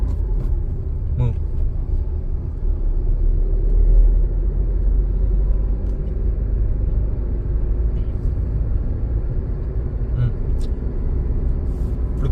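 A car engine rumbles steadily while driving in gear during a driving lesson, a low continuous drone that swells slightly around the middle, with an instructor talking over it.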